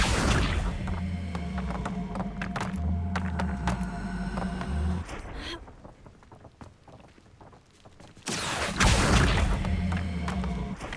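The Accio summoning spell in the Hogwarts Legacy video game, heard as a rushing magical whoosh that pulls objects in, rising twice over a steady low ambient drone with a quieter stretch between.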